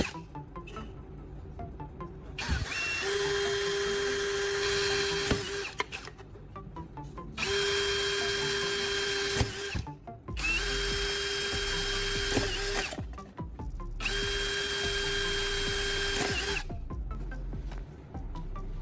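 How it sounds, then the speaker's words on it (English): A power drill bores holes into the bottom of a metal can in four long bursts, each a loud, steady whine that stops and restarts, with short pauses between them and no talk. "I'm carefully drilling holes where I mark them on the can bottom."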